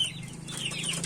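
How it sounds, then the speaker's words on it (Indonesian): Young Bangkok chicken chicks peep and cheep in a busy chorus, high thin calls overlapping continuously against a low background hum. "ini anakan ayam yang saya punya ya teman-teman ya"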